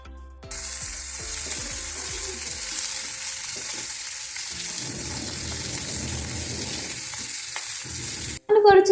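Fish frying in a pan in a home kitchen, a steady loud sizzle crackling throughout with occasional clinks and scraping, ending in a brief louder clatter.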